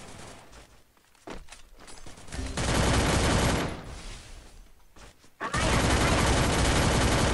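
Rapid automatic gunfire from a weapon in the video game Free Fire, coming in two loud sustained bursts separated by a brief lull, with scattered quieter shots before them.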